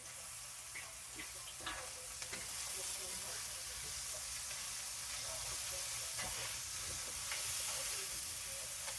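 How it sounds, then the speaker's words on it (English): Seasoned food sears in a hot pan with a steady broadband sizzle and occasional crackles and pops, close and fairly loud, no talking. "Let that sear up, brown up, whichever."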